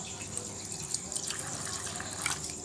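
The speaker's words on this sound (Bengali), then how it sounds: "এবার আমি 1 কাপের মতো জল দিয়ে দেব।" About one cup of water poured onto mashed raw mango in a strainer, a steady soft trickling and dripping that runs continuously and fairly quietly throughout.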